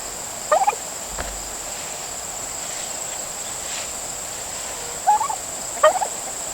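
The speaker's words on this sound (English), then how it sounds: "We are walking out to the turkeys." Farm-raised turkeys gobble in short, rattling bursts, once early and then twice close together later. The calls sound moderately near, over a steady background of chirping insects outdoors.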